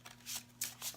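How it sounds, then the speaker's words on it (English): A brand-new tarot deck is shuffled by hand, giving quick bursts of riffling card flutter in several short, close strokes with brief pauses between. "So let me shuffle these good, since it is a new deck."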